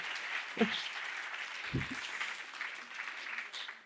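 Audience applause after a panel talk on the Paris art ecosystem, soft steady clapping heard from a distance, with short bursts of voices briefly cutting in.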